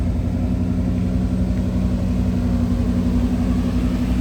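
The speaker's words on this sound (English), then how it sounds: "The exhaust has a great tone to it." A 1987 Chevrolet K10 Silverado long-bed pickup with a 5.7L engine and automatic transmission idles steadily, its exhaust giving a loud, low, even rumble close by with no talking.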